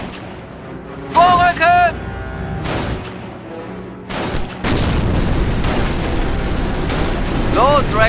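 Demolition charge detonations in Company of Heroes, the Normandy invasion campaign, heard as several booming bursts and crackling gunfire within a dense, continuous battle soundscape, while soldiers shout commands in German over the din.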